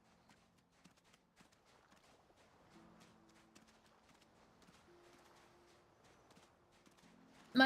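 Hoofbeats of a horse clip-clop faintly in a video game, a soft, uneven walking rhythm over low background hum, ending in a sudden loud burst.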